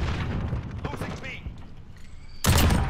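Gunfire in the video game Destiny, with steady rattling shots throughout that burst into a loud, dense barrage near the end, with a voice talking over the shooting.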